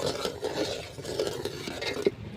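Cashews and milk powder stirred into simmering milk payesh, a soft scraping of a spoon against the pot repeating in uneven strokes, close and fairly quiet, with a sharper clink near the end.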